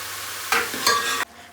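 Mushrooms roasting in a pan, a constant close sizzle broken by two brief scraping stirs of a spatula, with no one talking.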